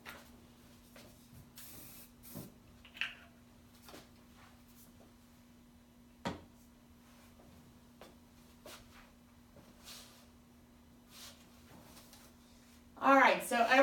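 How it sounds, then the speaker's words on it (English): After a quiet stretch with faint clicks and handling noises, a short burst of hissing spray sounds close by at the very end. "finish that off with our finishing spray"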